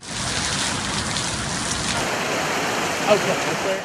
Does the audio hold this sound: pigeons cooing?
no